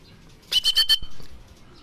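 A racing pigeon hen beats its wings in a quick burst of four or five close flaps lasting about half a second, followed by faint background sounds.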